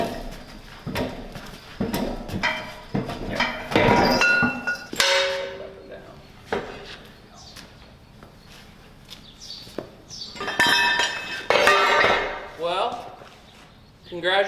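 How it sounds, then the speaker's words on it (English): Metal hammer strikes knocking a part off a tractor in a shop workshop, sharp clanking hits in irregular bursts with metallic ringing, mixed with people talking. "we're just gonna hammer it and try to maneuver it off a little bit"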